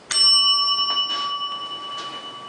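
A small bell used with the Fish Cook board game struck once, a bright close ring that sustains and slowly fades with a gentle wavering shimmer, heard alone.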